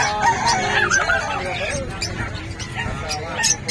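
Chickens, including a rooster and a hen, call and cluck with crow-like rising notes, partly under steady nearby conversation between people.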